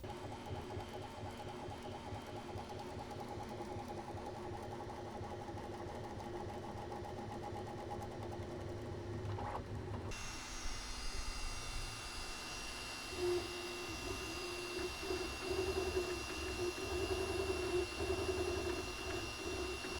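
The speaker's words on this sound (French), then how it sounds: "je vais vous laisser quelques secondes avec un aperçu du bruit de ces deux imprimantes pour que vous puissiez comparer" Bambu Lab A1 and Ender 3 3D printers running, one after the other: a steady mechanical whir with stepper-motor whines and shifting tones, switching midway to a brighter, hissier machine hum with busier motor movement.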